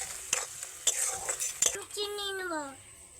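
Potatoes and spices stirred in a pan over low heat: a few sharp utensil knocks against the pan over a soft sizzle, followed by a short high voice-like tone.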